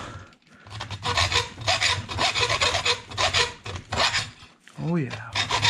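A plastic body for an INJORA Jeep Rubicon on a Traxxas TRX-4 Sport gets hand-chiseled, giving rhythmic rasping scrapes in short strokes with brief pauses, close by, ending in a short squeaky scrape.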